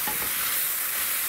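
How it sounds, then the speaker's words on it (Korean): Kimchi being stir-fried in a hot pan, with a dense, steady sizzle and hiss that is close and even throughout this brief moment. "이제 볶아볼게요. 김치를 넣으시고요."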